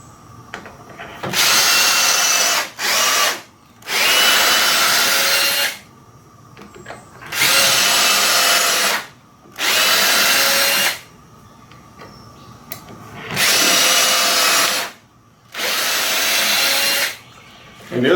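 A power drill bores six holes into the lower wooden header of a louvered sliding wall, loud whining bursts of a few seconds each, separated by short pauses, repeating in a steady series.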